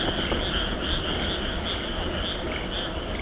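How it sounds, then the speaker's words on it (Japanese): Frogs croak loudly at night in dense overlapping pulses with insect-like chirping, heard from a bicycle during a night ride, with no talking. "今カエルめっちゃ鳴いてんだけどさ"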